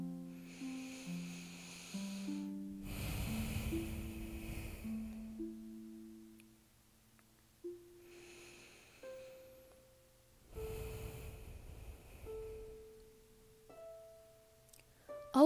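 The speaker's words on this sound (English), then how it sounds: "Do you feel my breathing?" Slow, soft breathing close to the ear in an intimate cuddle therapy roleplay, two long breaths under a quiet sustained tonal music bed that steps through changing notes.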